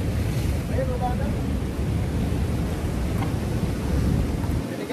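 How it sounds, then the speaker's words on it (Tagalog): Strong, rough ocean waves crash and surge in a continuous, loud wash of broadband roar that holds steady throughout and sounds close by. "Delikado, lakas ng alon."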